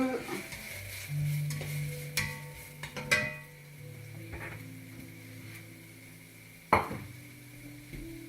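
Chopped garlic, cut into coarse pieces, stirred in a pan with a utensil, soft scraping and sizzling with a few sharp clinks against the pan, close and moderately quiet.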